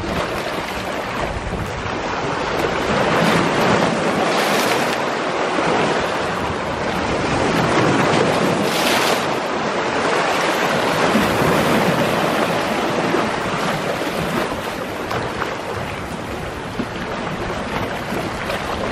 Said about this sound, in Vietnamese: Đây là chiếc tàu container này.